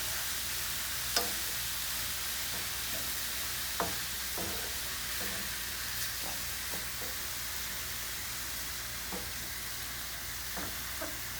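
Mushrooms sweating in a pan give off a quiet, steady sizzle, with occasional soft clicks and scrapes of stirring scattered throughout and no one talking.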